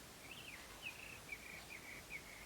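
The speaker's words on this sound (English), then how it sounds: "Can you hear the little birds outside?" Small birds chirp in a soft, repeated series of high notes, faint and distant over a quiet background hiss.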